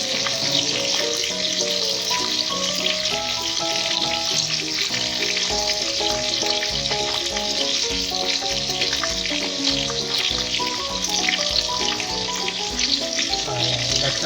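Tomato paste fries for a pork caldereta in a loud, constant sizzle that holds steady throughout, partly masked by prominent background music.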